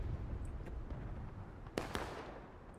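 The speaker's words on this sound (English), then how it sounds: "You do have the 42nd artillery trying to bracket them in." Distant artillery firing in the Civil War video game War of Rights at Antietam Creek, two sharp booms close together over a steady rumbling background, with fainter pops earlier.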